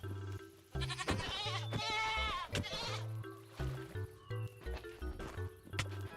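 Goats bleat in the modded Minecraft pack Hexxit, with a couple of loud wavering bleats near the start followed by scattered hoof clops and short thuds, all set over soft looping game music.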